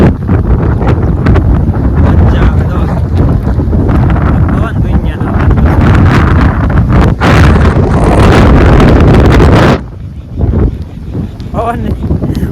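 A storm wind on a farm roars and buffets the microphone in a loud, continuous rush with rough gusts, then eases sharply near the end.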